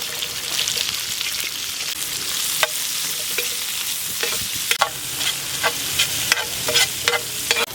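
Peeled small shallots fry in hot oil for a chicken liver dish, a steady sizzle broken by repeated scraping clicks as a spoon stirs through the pan, close and alone.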